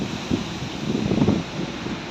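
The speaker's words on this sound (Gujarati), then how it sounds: "પવન આવે ફૂલ" Cyclone Biporjoy wind gusts hard outdoors among storm-damaged trees, a loud low rumbling roar buffeting the microphone, swelling in the middle and easing again, with no talking.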